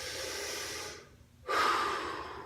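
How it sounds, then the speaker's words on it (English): A person draws a single audible breath during a shoulder mobility stretch, a soft airy inhale rising after a brief quiet pause, close and fairly faint with no talking. "I take a breath."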